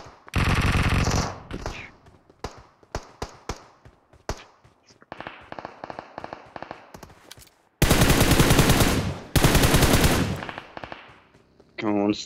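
Gunfire from the mobile battle-royale game PUBG Mobile comes as repeated bursts of automatic fire with scattered single shots, including several long, loud sustained volleys, while players talk over it.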